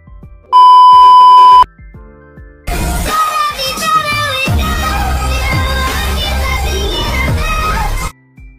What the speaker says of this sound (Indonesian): udah pasang alarm buat sholat tahajud malah nggak bangun ya